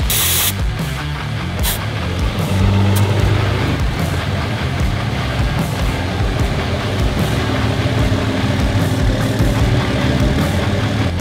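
Cummins diesel pickup truck engine running steadily before a test drive, a loud, close, continuous low rumble with broadband roar and no talking.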